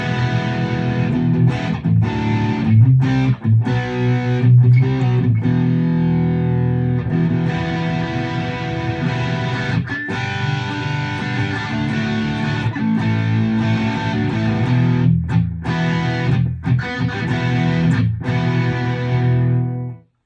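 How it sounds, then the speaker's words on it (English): Electric guitar played through a distortion effect with the tone control backed down from a bright setting, giving a thick, dark, sustained overdriven sound in steady strummed chords and riffs throughout, loud and alone. "Back that down some and then turn your distortion on."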